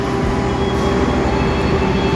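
Inside an economy-class KAI passenger train, a steady rumbling roar of wheels on rails and carriage noise fills the space continuously, with no talk.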